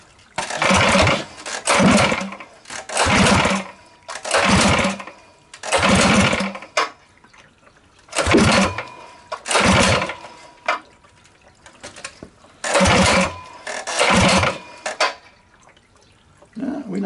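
A rebuilt Tillotson 212cc small engine is pulled and sputters in repeated short bursts, each catching for about a second before dying, with quiet gaps between, loud and close without speech.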